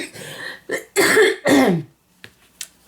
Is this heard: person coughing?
yes